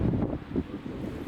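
Wind blowing at a creek, a low rumbling gusty rush buffeting the microphone, fairly quiet and close, with no voices heard.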